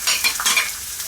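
Sichuan pepper, ginger, garlic and hotpot base stir-fried in a wok, a brisk scraping and sizzling burst with repeated stirring strokes, close and alone.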